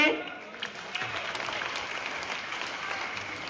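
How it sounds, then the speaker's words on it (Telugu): Temple devotees clapping together during the 3am harathi and food offering for Peddamma Thalli, a steady wash of applause-like claps from a gathered crowd, under continuous chanting. "అందరూ కూడా ఒక 3 సార్లు చప్పట్లు కొట్టండి"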